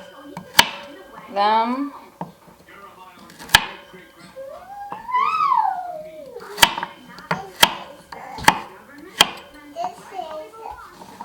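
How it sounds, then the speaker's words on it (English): Knife chopping small carrots on a board, sharp isolated chops spaced irregularly, some in quick succession, with a voice chattering between strikes. "I have here 3 small carrots, and I'm just going to roughly chop"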